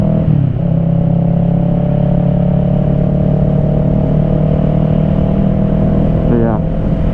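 A Kawasaki Ninja 650 motorcycle engine hums steadily during an easy ride, with light throttle and constant wind and road rumble close to the microphone. A faint rising tone briefly changes pitch near the end.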